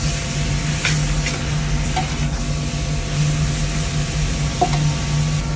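Pork noodle soup with corn being stirred in a pot, a steady sizzle and bubbling hiss with a low continuous hum, no voices.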